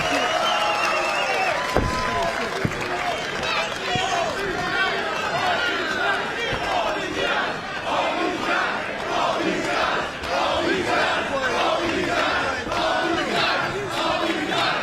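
A large wrestling crowd at a TNA X Division title match roars and chants in a dense, continuous wave, with rhythmic pulsing cheers and a few sharp impacts throughout.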